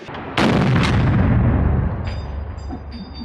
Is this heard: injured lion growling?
no